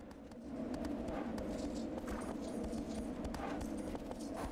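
Horse hooves clip-clop at a steady riding pace in Shadow of the Colossus, a rhythmic stream of close hoofbeats over a low ambient bed.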